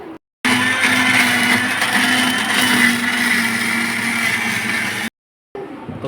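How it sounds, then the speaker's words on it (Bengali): A blender whirs steadily and loudly for several seconds as it blends chhena and sugar for mango laddoo, with a short quiet pause before it starts and another near the end. "ওকে, এবার এটাকে ব্লেন্ড করে নেব। তো চলো এটাকে ব্লেন্ড করানো হোক।"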